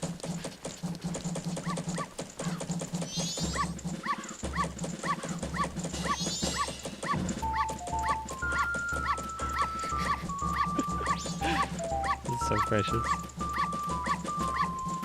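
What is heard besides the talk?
dog barking, from video game Majora's Mask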